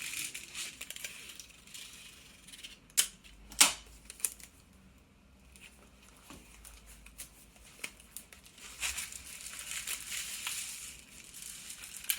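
Dry rattling and crinkly shuffling of small beads or grains tumbling inside a paper rain stick, with a few louder clacks and bursts of rustling, close up.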